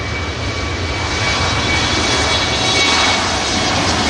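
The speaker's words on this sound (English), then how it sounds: "that aircraft looks like it's going to be number 3 to touch down" An airliner landing at Manchester Airport roars steadily with broadband engine noise, swelling slightly toward the middle, heard from a fair distance with no talk.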